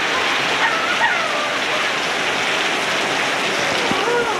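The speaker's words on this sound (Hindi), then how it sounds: "यहाँ आके देखा बहुत तेज़ बारिश हो रहा है" Heavy rain pours steadily around a camp, a dense, even hiss of water that is loud and close and continues without a break.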